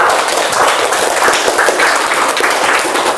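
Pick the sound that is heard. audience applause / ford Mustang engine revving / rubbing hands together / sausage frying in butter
audience applause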